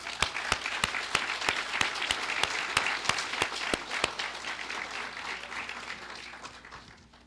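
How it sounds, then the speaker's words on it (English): An audience at a correctional academy graduation ceremony applauds, a dense sustained clapping with a few sharp nearby claps standing out in a steady beat, gradually tapering off toward the end. "Let's give you all a round of applause for your commitment."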